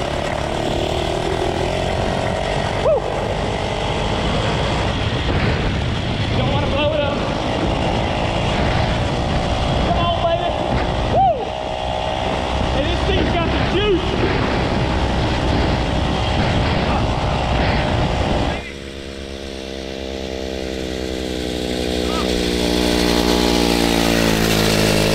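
Homemade mini bike with a 2HP two-stroke washing machine engine and no suspension, ridden through weeds and briars: a loud, buzzing close engine drone that drops to a lower, steadier idle near the end.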